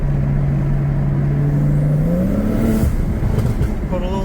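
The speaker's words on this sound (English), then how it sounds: "he's got the Jeep all lifted up. Look, got the big tires." A lifted Jeep on big tires drives past nearby, its engine a steady droning hum that rises in pitch as it revs, filling the whole stretch at a fairly loud level.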